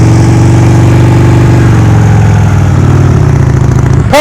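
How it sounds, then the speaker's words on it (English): A motorcycle engine runs loud and close at high revs during slow-speed riding practice, holding a steady buzzing drone before it shifts pitch near the end. "You hear how high Joey's RPMs are?"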